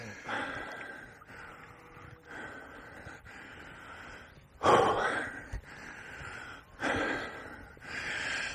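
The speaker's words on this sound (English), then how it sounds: "I'm out of breath running around there" Heavy, gasping breaths from an angler winded after running along a riverbank on the River Wye, coming in repeated close bursts with one sharp, louder gasp midway.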